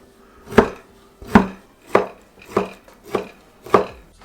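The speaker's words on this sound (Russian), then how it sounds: "Вареную колбасу нарезаем кружочками." Knife slicing boiled sausage into rounds on a cutting board: six sharp, evenly spaced chops about every 0.6 seconds, close and clear with no talk.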